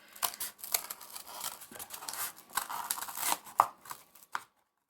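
Scissors snip through cardboard to cut out circles for a junk-model toy car, a close, irregular run of crisp cuts and crinkles, paper and card rustling between snips, ending in silence.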